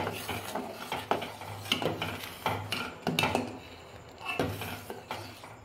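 A spoon stirs milk slowly in a pot as whole-lemon juice turns it into chhena, with the flame switched off; soft, uneven scraping and clinking strokes against the pot repeat close by, with no voices.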